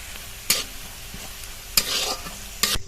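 Chopped onion, green chilli and a pinch of asafoetida fry in spiced oil, with three sharp bursts of sizzling and stirring rising over a steady low crackle, close and fairly loud.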